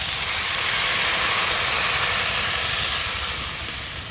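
Water poured into a hot pan of fried spiced potatoes sizzles and hisses loudly, a broad, steady steam roar sustained close up for several seconds before easing slightly at the end.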